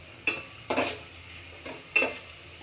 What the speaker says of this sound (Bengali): দিয়ে নেড়ে চেড়ে দিচ্ছি যেন পেঁয়াজগুলো না পড়ে যায়